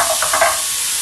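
Mussels hit a pan of hot melted butter, a loud steady sizzle with a few soft scraping stirs.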